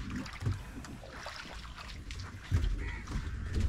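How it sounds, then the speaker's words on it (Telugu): A small boat out on the sea off Goa carries an engine rumble and water wash with wind buffeting the microphone, close and steady, with a couple of louder surges. "ఫైనల్గా మనమైతే ఇప్పుడు బోట్లోకి ఎక్కేసాం అనమాట"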